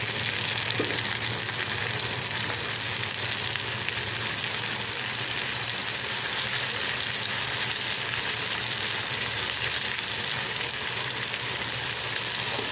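Tomatoes and a bay leaf fry in hot oil, producing a dense, steady hiss of sizzling that runs unbroken and even throughout, with no voices.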